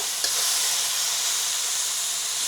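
Meat searing in a seasoned carbon steel pan, unsalted and unseasoned: a steady, loud, close hiss and sizzle that holds evenly throughout the short stretch, with no voices.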